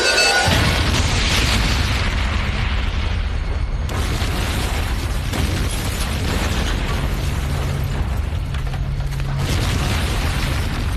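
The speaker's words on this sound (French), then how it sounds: "Ce vacarme, on aurait dit une explosion." A loud, sustained blast and roar fills the clip, a dense rumbling boom with bursts and crackling debris continuing throughout.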